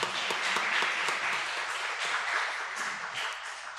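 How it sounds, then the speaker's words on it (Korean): A church congregation claps together in warm, sustained applause, a dense even wash of hand claps lasting a few seconds with no talking over it. "우리 사랑하는 마음을 담아서 다시 한번 박수 드리겠습니다."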